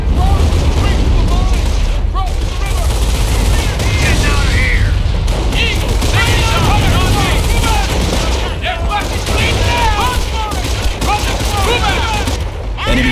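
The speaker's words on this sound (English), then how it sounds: "They're hitting one of our forward emplacements, trying to take our territory." A Company of Heroes battle as the enemy hits a forward emplacement: continuous loud gunfire and machine-gun bursts with booming explosions, overlapping shouted soldier voices throughout.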